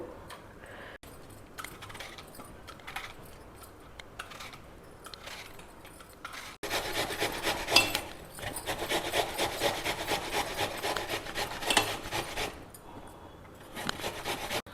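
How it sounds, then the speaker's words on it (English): Two apples are grated by hand, a close, repetitive rasping scrape that is soft and intermittent at first, then turns louder and faster in steady strokes before easing off. "So here I have 2 apples. First we will grate them."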